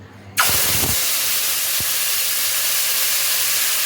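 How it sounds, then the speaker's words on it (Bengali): Chicken pieces dropped into hot white oil in a wok (kadai) burst into a loud, sudden sizzle that settles into a steady, close hiss of frying. "এবার আমি এই তেলের মধ্যে দিয়ে দেব চিকেনগুলো"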